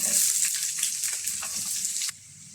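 Sliced onions hit hot coconut oil in a pan with a loud, close, bright sizzle and crackle that runs steadily, then drops suddenly to a quieter hiss, with no talking.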